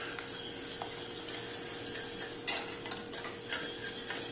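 A whisk stirs batter into hot cream and butter in a bowl, a steady soft scraping with light clinks of metal against the bowl and a few sharper taps, close and alone.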